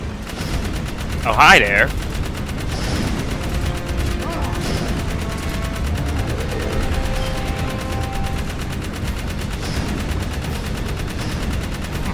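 Gunfire in the video game Jak 3 rattles through a busy game soundscape, with a sharp burst near the start and further shots under continuous background music and effects while someone talks.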